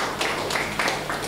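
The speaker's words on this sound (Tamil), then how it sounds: "எல்லாம் கைத்தட்டலாம்." A church congregation at a Sunday morning worship service claps together in a steady rhythm, several short, even bursts of hand claps sounding close and bright.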